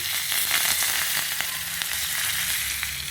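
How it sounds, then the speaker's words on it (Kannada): Washed curry leaves dropped into hot tempering oil with asafoetida give a dense, even sizzle with faint crackles throughout, close and without any voices. "ಇಂಗು ಹಾಕಿದ ನಂತರ ಇದಕ್ಕೆ ನೀಟಾಗಿ ತೊಳೆದಿಟ್ಕೊಂಡಿರೋವಂಥ ಕರಿಬೇವಿನ ಸೊಪ್ಪು ಹಾಕಿ"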